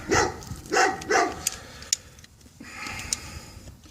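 A dog barks three times in quick succession at mid distance, followed by quieter clicking and faint background noise.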